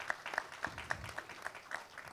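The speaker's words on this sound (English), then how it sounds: "Please welcome with a round of applause, Marcus Fillinger." Sparse, faint applause from a small audience welcoming a speaker, with a handful of distinct individual claps spaced irregularly across a brief moment.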